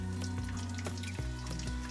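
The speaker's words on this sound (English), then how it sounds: "Frying up the rest of the mahi that we caught the other day." Mahi fish bites fry in a pan with a steady, continuous sizzle, close up and alone, with a low constant hum beneath the crackle.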